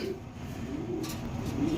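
Iranian Baghdadi Huma pigeons coo softly in low, steady murmurs, a close and continuous burbling with no voices over it.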